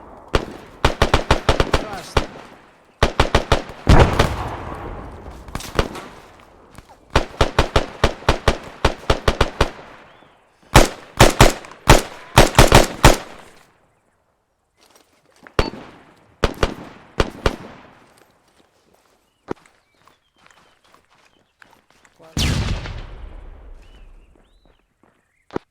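Military video game combat crackles with rapid bursts of automatic gunfire in dense volleys, followed later by a heavier frag grenade detonation with a rumbling decay, amid quieter stretches of isolated shots.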